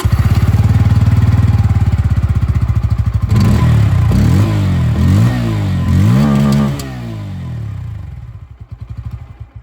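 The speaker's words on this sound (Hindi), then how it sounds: "अब बात इंजन की हो रही है, एग्जॉस्ट साउंड सुनाना जरूरी है।" Bajaj Pulsar N160 motorcycle with an underbelly exhaust, idling with a steady thumping note, then blipped through several sharp rising-and-falling revs before settling back and fading; loud and close, with no talking.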